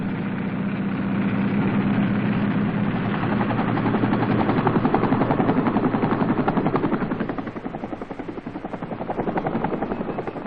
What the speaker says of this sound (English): casualties are evacuated by helicopters known in Vietnam as dust-off.